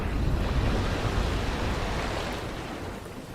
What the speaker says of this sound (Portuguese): o carro quebrando alguma coisa, batendo forte na água